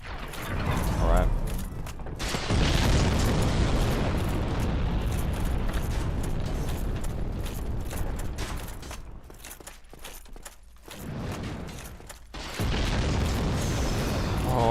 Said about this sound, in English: Try to be to the right of the bomb when it lands.